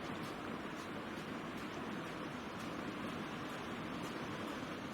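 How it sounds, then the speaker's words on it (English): Waterfall in the survival video game The Long Dark, a steady, even rush of falling water that holds constant and fairly faint, with no voices. "There's another waterfall."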